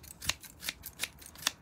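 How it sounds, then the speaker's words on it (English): Scissors trimming a doll's hair, four crisp close snips spaced evenly about a third of a second apart, quiet and without talking. "So get in there with your scissors."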